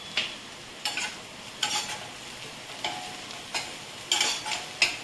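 A spoon scraping coriander and Kashmiri chilli powder around a frying pan, about seven distinct rhythmic strokes over a soft sizzle, close and alone without speech.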